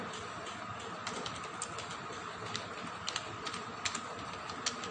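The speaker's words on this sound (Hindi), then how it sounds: "अब जैसे यहाँ पर हमने टाइप किया" Typing on a computer keyboard, quiet irregular key clicks tapping over a steady background hum, with a few sharper presses standing out.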